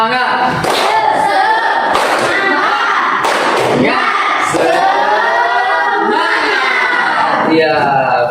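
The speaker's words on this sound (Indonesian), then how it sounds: "kita melakukan tepuk semangat dulu" A class of schoolchildren performs a rhythmic spirit clap chant during a lesson, with sharp clap bursts recurring roughly every second amid loud, sing-song group voices close by.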